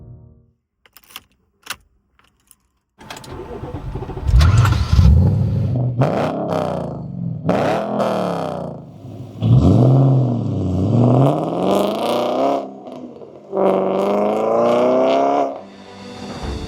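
An Audi RS4 B7 engine revs loudly in several rising and falling bursts, with short clicks and a pause before the revving begins, heard close and without talk.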